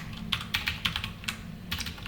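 Rapid clicking keystrokes on a computer keyboard while HTML code is typed, arriving in short irregular bursts with brief pauses, close and fairly quiet, with no talking.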